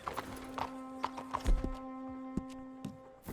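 Hooves clop in a loose trotting rhythm over a steady low hum, with a few sharper hoof hits standing out; a horse trotting in the video game Red Dead Redemption 2.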